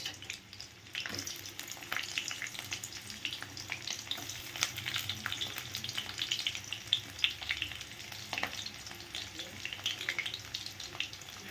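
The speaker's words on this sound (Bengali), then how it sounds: "দিয়ে দিচ্ছি কুচানো লঙ্কা আর কোচানো পেঁয়াজ।" Chopped chilli, onion and julienned ginger fry in a pan over a low flame, giving a steady broadband sizzle throughout with occasional sharper crackles and pops, close by and fairly constant in level.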